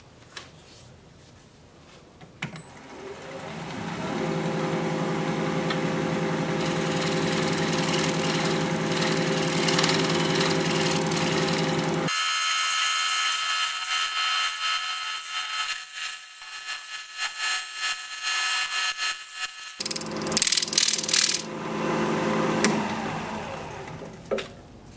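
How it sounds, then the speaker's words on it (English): Wood lathe spinning a piece of cork bark while a shear scraper works the surface: a steady motor drone with a rough, rasping scrape layered on top, loud and close, cutting out abruptly midway before resuming. "Do some shear scraping."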